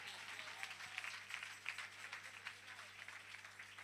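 A congregation applauds at an evening worship gathering. The clapping is a continuous, fairly distant wash that stays even for the whole stretch.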